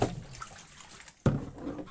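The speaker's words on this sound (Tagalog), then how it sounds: "Yung pagsalin ng tubig sa palanggana." Water poured into a basin gives a splashing gush that dips, then surges loudly again partway through, with a faint voice in the background.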